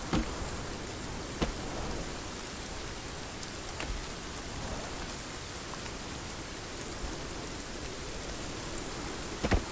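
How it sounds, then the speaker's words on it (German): Steady rain in the video game Sons of the Forest, pouring down with a dense hiss, occasional louder drops or taps standing out, no voices. "es regnet schon wieder."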